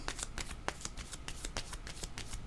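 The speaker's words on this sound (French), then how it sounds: "Allons vérifier ces cartes maintenant." Tarot cards being shuffled by hand during a reading, a rapid close-up riffle of soft papery flicks and slaps repeating steadily, quiet and without talk.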